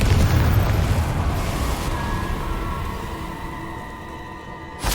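A Confringo explosive spell blast in Hogwarts Legacy: a loud, rumbling boom that fades slowly over several seconds, followed by a short sharp burst at the end.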